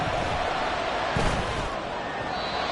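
A large stadium crowd roars as a steady, dense wash of noise in Madden 24, with a brief swell and thud partway through and no spoken words.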